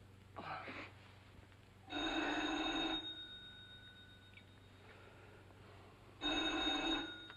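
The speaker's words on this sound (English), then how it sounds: "That phone hasn't stopped ringing since I got in the house." An old telephone bell rings in two loud bursts separated by a pause, each ring a bright metallic trill in a quiet room.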